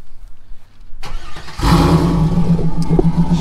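A 2002 Chevrolet Camaro engine cranks briefly, then catches and roars to life with a loud rev before settling into a rough, throaty idle, heard up close.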